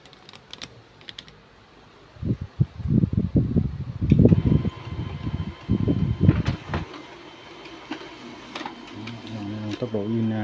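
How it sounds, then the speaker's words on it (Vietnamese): An HP LaserJet 1606dn laser printer runs a test page, with bursts of mechanical whirring and rattling from about two to seven seconds, followed by a quieter hum and faint clicks. "bây giờ mình chỉ cần bấm next là sẽ máy in sẽ in bản in test"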